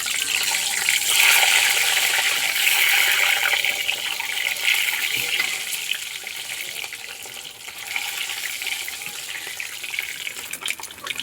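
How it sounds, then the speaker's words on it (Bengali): Eggs frying in hot oil in a pan make a continuous hissing sizzle that stays loud and dense throughout, easing slightly toward the end, with no voices. "এখানে আমার তেলটা গরম হয়ে গেছে, এখন আমি ডিমগুলো সুন্দর করে ভাজে দেব।"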